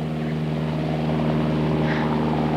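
A small aircraft engine drones steadily in flight, loud and close as if heard from inside the cabin, with a constant hum and no break.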